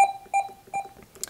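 Three short electronic beeps from a radar detector's volume buttons in succession, each a clear tonal chirp, fairly close and alone with no talking.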